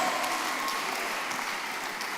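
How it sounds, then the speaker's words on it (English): An audience at a church young professionals' forum in Abuja applauds steadily and fairly loudly, a dense even wash of clapping throughout with no talk over it. "A round of applause."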